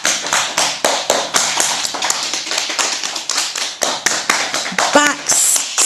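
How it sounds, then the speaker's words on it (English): Hands clapping in a yoga class, a dense, steady round of applause with many overlapping claps lasting the whole stretch, fairly close and loud, with a brief voice near the end. "Let's give them a massive round of applause."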